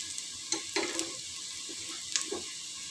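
Ginger and whole black pepper sizzle steadily in a hot pan of oil for chicken kabsa, a soft continuous frying hiss broken by a few stirring clinks and scrapes, fairly quiet with no talking.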